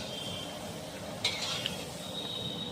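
Prasad is cooked for devotees in Vrindavan, with a steady frying sizzle and a few clinks of utensils against pots, heard close with no talk over it.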